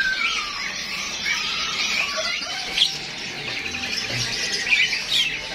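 Songbirds, including canaries, chirping and tweeting together inside a bird shop kiosk, a busy layered chorus of high, bright calls that continues steadily, fairly close, with no talk.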